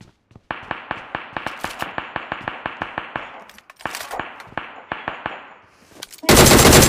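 Rapid automatic gunfire from the PUBG Mobile battle game, a loud run of evenly spaced shots followed by a second shorter burst, then a sudden wash of loud noise at the end.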